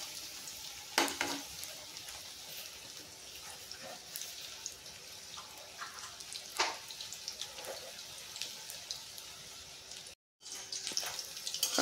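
Soy-marinated chicken pakoras deep-fry in hot oil with a low, steady sizzle, punctuated by occasional clinks and scrapes of a utensil; fairly quiet and close, without speech.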